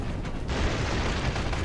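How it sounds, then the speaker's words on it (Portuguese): A grenade explodes in the multiplayer shooter CrossFire X on Xbox Series X, a dull, rumbling boom that lingers as a broad roar for over a second. "Cuidado, granada."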